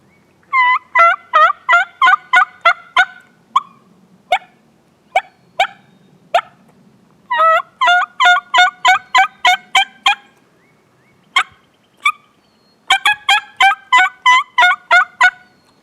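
A Beaver Creek Phantom Hen turkey call is worked by hand, producing loud, high-pitched hen yelps in rapid runs of evenly spaced notes, broken by a few single calls and pauses, close and clear with no talking.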